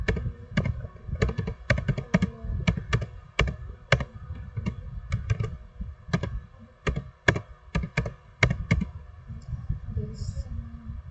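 Typing on a computer keyboard: quick, close-up key clicks in uneven bursts with short pauses, running steadily throughout.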